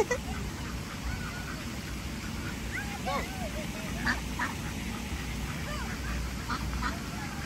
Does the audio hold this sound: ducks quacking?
yes